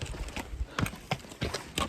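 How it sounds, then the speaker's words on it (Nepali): Horse hooves clip-clop at a steady walking rhythm on a high mountain pilgrimage trail on the Kailash Manasarovar route from Nepal, the hoofbeats fairly close but soft, with no talking. "कोही नसक्ने घोडामा नि आउने रहेछन्"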